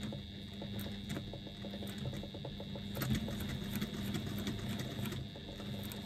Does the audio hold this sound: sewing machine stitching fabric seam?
yes